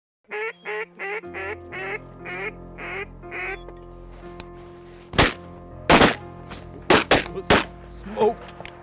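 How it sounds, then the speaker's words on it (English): Ducks quacking during a prairie mallard hunt, a string of loud rhythmic quacks up close, followed by several sharp nearby gunshots with more calls between them. "Ducks are just starting to move."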